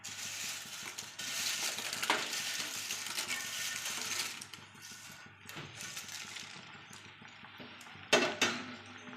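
Fried papad being stirred into a simmering curry in a pot, a steady clatter and scrape of utensil against cookware with soft bubbling underneath, ending in a couple of louder knocks near the close.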